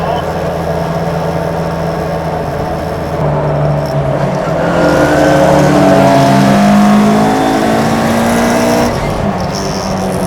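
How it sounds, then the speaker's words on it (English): Ford Escort Mk2 rally car with a BD engine revving on tarmac, its loud engine tone rising and falling through several throttle blips, with people talking over it inside the car. "those funny noises in a rally car"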